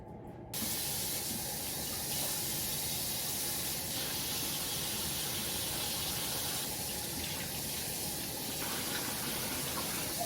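Steady broadband rush of water running from a kitchen tap while dishes are washed at home, continuous and fairly close for about ten seconds, with no voices.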